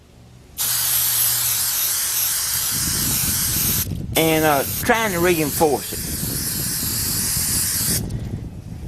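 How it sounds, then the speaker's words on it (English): Spray glue hisses from an aerosol can onto insulation for a homemade generator muffler, long steady bursts with short pauses, while someone talks briefly over it. "Spraying some of this glue."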